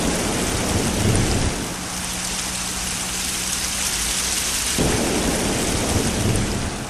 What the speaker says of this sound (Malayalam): പുറത്ത് നേരിയ മഴ പെയ്യും.